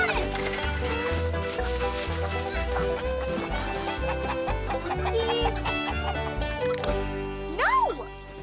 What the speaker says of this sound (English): Give me that chicken.